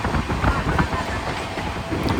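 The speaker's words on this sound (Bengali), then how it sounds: "আমাদের ট্রেন আর কিছুক্ষণের মধ্যে গদাধরপুর রোড স্টেশন স্কিপিং করতে চলেছে।" The Kanchanjungha Express running at speed past Gadadharpur Road station, heard from on board as a steady, loud rumble of wheels and rattling carriages with rhythmic clatter and wind noise throughout.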